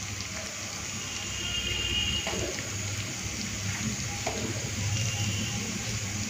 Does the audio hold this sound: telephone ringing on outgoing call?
no